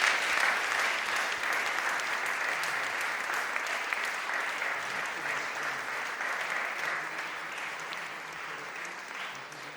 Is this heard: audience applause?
yes